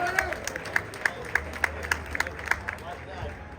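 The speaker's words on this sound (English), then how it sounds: "A round of applause for Leonard Ellerbe, ladies and gentlemen" A small audience claps for Leonard Ellerbe at a fan event, a steady patter of sharp, evenly spaced claps at moderate distance under background crowd murmur and voices.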